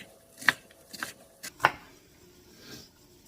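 A knife chops three times, crisp and distinct, then a softer fourth stroke, while ingredients for white chicken chili are prepared in a quiet kitchen.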